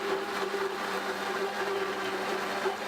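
A blender runs steadily at full speed, pulverizing mint and berry smoothie ingredients, a loud continuous whirring grind with no breaks and no voices.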